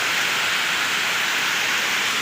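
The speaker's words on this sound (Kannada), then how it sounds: "ಜೋರಂದರೆ ಜೋರು ಮಳೆ ಬರ್ತಿದೆ ಆ್ಯಂಡ್ ತೋರಿಸ್ತೇನೆ ಗೈಸ್ ಜೋರು ಮಳೆ ಬರ್ತಿದೆ ನೋಡಿ" Heavy monsoon rain pours down outside a home, a dense, steady hiss that stays loud and unbroken throughout with no voices over it.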